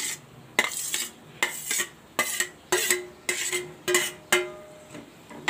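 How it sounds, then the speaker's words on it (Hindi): Boiled watermelon peel pieces tipped into melted sugar in a pan for homemade tutti frutti, giving a run of about nine sharp clinks and clatters of utensil on the pan at a steady rhythm, close and clear. "अब इसमें हम अपने तरबूज डालेंगे जिन्हें हमने उबाल लिया था।"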